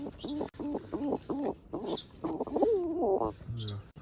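A pigeon coos in a loose setup holding a new baby pigeon, a close series of soft rolling coos repeated several times over a few seconds.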